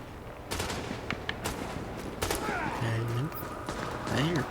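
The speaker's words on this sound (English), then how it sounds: "I hear gunfire and people shooting at each other." Scattered gunfire crackles in The Division video game, sharp shots from a firefight at a distance. The shots come in irregular bursts at low level, and a voice is heard faintly among them.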